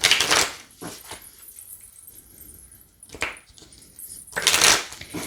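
A tarot deck from a Heal Yourself set being shuffled by hand: a few short, crisp riffling bursts, one at the start, one mid-clip and a louder one at the end, with quiet rustling between them and no talk.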